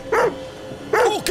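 Two short dog barks from the video game The Devil in Me, close and clear, separated by a brief pause over a low ambient hum.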